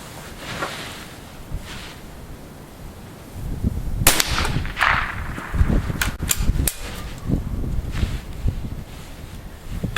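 A .22 rifle firing a Federal round outdoors gives several sharp cracks in the middle of the clip over rustling wind and movement noise, with no talking.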